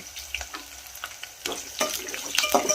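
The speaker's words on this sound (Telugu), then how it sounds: "తర్వాత ఉల్లిపాయలు వేసుకోవాలి" Chopped onions hit hot oil in a pan while making rava upma, giving a crackling sizzle that swells from faint ticks to a fuller, busier fry toward the end, with no voices.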